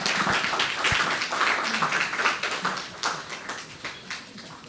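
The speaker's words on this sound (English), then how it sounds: "Give them a round of applause" An audience at a training session gives a round of applause for the demonstrator, a dense, steady patter of many hands clapping at moderate loudness, with no clear speech over it.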